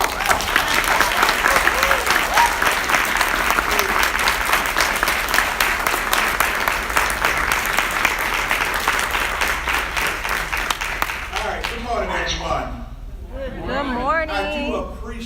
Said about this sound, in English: Ladies and gentlemen, big round of applause for Mr. Richboi.